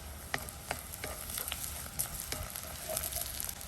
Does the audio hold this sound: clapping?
no